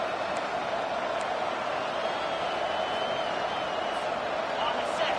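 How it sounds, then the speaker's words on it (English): A football stadium crowd keeps up a dense, continuous roar of cheering early in the game, an unbroken wall of noise with a voice faintly audible underneath. "This crowd bringing the energy and noise early."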